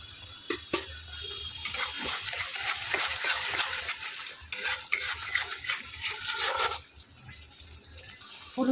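Aloo paneer masala is stirred and fried in a pan, with close scraping stir strokes over a soft sizzle that swell in the middle and then quieten near the end, with no talking.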